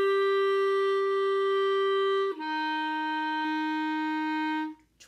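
Clarinet sustains a clear A and then slurs smoothly down to a sustained F, two long held notes played solo and close, with no talking over them.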